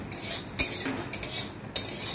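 Metal spoon scraping and clinking in a pan while spices and fried chickpeas are stirred together over a medium flame for green chili pickle, with a few sharper knocks at steady intervals and no talk.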